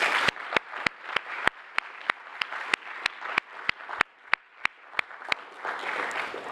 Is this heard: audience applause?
yes